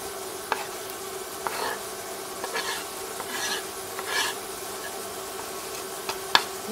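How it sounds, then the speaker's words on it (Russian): Steady sizzling of onions frying in vegetable oil in a pan, with occasional stirring scrapes and light clicks over a constant background hiss. "Сначала лук обжарим, а потом уже после будем жарить печень."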